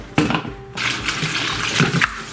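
Tap water runs over oysters in a kitchen sink colander as they are washed. The splashing stream sounds close and fairly loud, with brief breaks and bursts of spatter.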